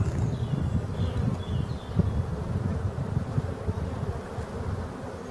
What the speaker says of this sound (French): Il y a vraiment des abeilles très courageuses